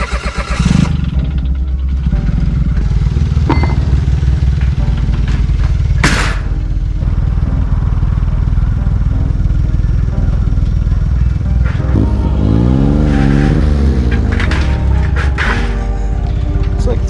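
An old Chevy engine warms up and revs, a loud steady idle with sharp bursts and a rising-falling rev sweep near the end.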